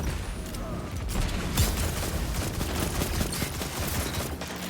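Rapid bursts of video game gunfire from Destiny's Clash mode, several weapons firing together in continuous overlapping volleys at close range, with a faint voice now and then underneath.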